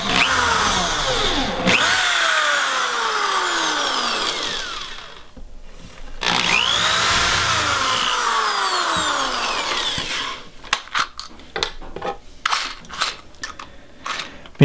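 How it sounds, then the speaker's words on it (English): A power drill drives screws into wood while a dog crate is built, with two long whining runs that rise and fall in pitch, followed by short bursts and clunky handling knocks, close and loud with no talking. "I'm just going to put some screws in to hold this in place."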